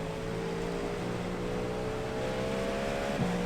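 Race car on a wet Sebring circuit on cold tires at the start of a race, a steady loud engine drone holding one pitch throughout with a brief shift near the end.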